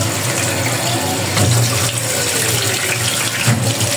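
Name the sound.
washing vegetables under running water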